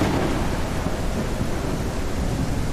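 In the open-world survival game Remnants, heavy rain hisses without a break under a low, continuous rumble of thunder, loud and close, with no talking.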